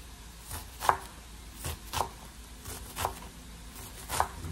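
A knife dices an onion on a cutting board. Four crisp, evenly spaced chops land about a second apart, close and fairly quiet, with no speech.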